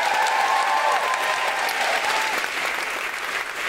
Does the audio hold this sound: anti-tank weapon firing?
no